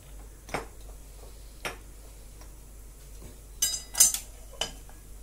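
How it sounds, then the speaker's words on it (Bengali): A gas stove is switched on, its igniter giving a few sharp separate clicks, with a quick cluster of louder snaps near the end against a quiet, faintly humming room. "গ্যাসটা অন করে দিলাম।"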